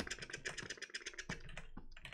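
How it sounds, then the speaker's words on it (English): Rapid typing on a computer keyboard, a dense run of clicky keystrokes with brief pauses near the end, close and clear with no talk over it. "Keyboard, type."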